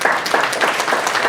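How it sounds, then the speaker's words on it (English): An audience claps steadily in a loose, rhythmic burst of applause, moderately loud and close, with no talking over it. "You're clapping too soon"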